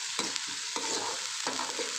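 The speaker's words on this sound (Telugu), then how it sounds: "అల్లం వెల్లుల్లి పేస్ట్ వేగిపోయింది." Ginger garlic paste fries in a pan with a steady crackling sizzle, broken by a few sharp scrapes of stirring, close and alone.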